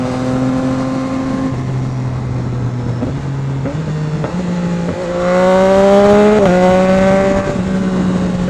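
A sport motorcycle, among them a Kawasaki ZX6R, Honda CBR650R and Kawasaki Z900, revs hard and shifts up through gears under a bridge, its loud close engine note rising in steps with brief breaks at each shift, echoing in the enclosed space.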